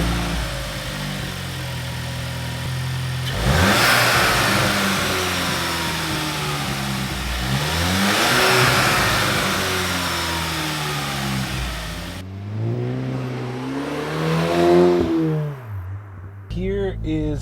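A stock VW MK8 GTI engine accelerates while driving, revs rising and falling through repeated climbs with shifts between them, heard from inside the car with someone talking over it.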